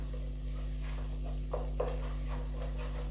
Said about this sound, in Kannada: ಇಲ್ಲಿ ನೋಡಿ ಬಟರ್ ಹಾಕಿ ಮಿಕ್ಸ್ ಮಾಡಿಬಿಡೋಣ